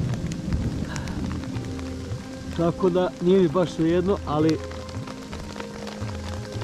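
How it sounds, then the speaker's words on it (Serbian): Rain falling on a tent at a mountain camp on the climb to Maglić, a soft steady patter with low rumbling in the background, while someone talks over it in the middle. "kiša je počela, za sad nije jaka, ali povećava se"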